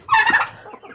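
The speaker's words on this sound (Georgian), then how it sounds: "ეს არის თემუს ინკუბატორის წიწილა" A chick hatched in an incubator lets out a brief, high, bright chirp trill up close, followed by softer fading peeps.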